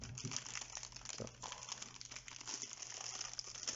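Plastic bag wrapped around a HyperX Alloy FPS RGB keyboard crinkles and rustles close up in a steady handled stream of crackles, with no speech.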